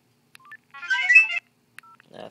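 Short electronic ringtone from a Motorola VE440 phone on Metro PCS, a few quick beeping tone bursts and a brief chirp over about two seconds, close and clean with no talking.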